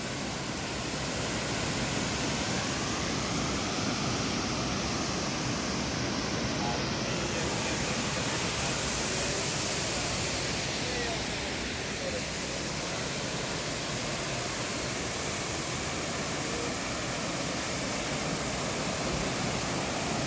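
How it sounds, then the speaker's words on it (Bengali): A steady, unbroken roar of rushing water from a waterfall on the Bangladesh side seen from Jaflong, filling the whole stretch without pauses. "এটা হলো জাপলং থেকে আমরা দেখি ঝর্ণা বাংলাদেশের, সেই ঝর্ণাটা"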